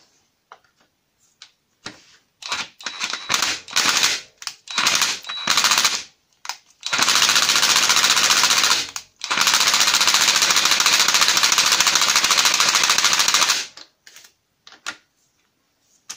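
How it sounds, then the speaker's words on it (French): Pneumatic impact wrench hammering at a bolt on a Mini project car, loud rapid rattling bursts: several short stuttering hits, then two long sustained runs of a few seconds each, with brief pauses between. "Bon, on va essayer à la péteuse."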